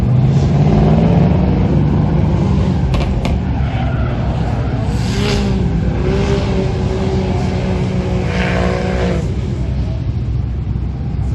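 Race cars, Corvettes among them, run side by side at Lanier Speedway during a downforce battle event, giving a loud, continuous engine roar with rising and falling revs throughout.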